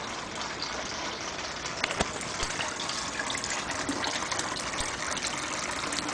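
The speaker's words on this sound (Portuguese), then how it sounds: "Aqui é o aparato, filtro UV, o canister." A canister filter with a UV filter pumps water in a large 1000-litre turtle terrarium, producing a steady close gushing and splashing flow that holds unchanged throughout, with no voices.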